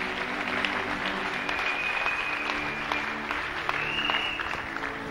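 A crowd applauds steadily, a dense wash of clapping that holds at an even level from start to finish.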